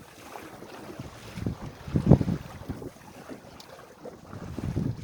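A sailboat moves along under wind with steady rushing wind noise and water washing and slapping against the hull, gusting louder at moments, with no talk.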